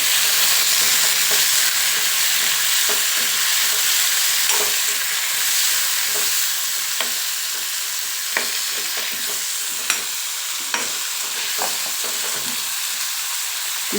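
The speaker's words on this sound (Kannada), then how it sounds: "ಎರಡು ಟೊಮೊಟೊ ಮೀಡಿಯಮ್ ಸೈಜು ನಾನು ಹಾಕೋತಾ ಇದ್ದೀನಿ ಇದು ಸ್ವಲ್ಪ ಫ್ರೈ ಆಗಬೇಕು" Two medium tomatoes frying in a pan, a loud dense hiss of sizzling close up, with occasional spoon scrapes and clicks as they are stirred, no voices.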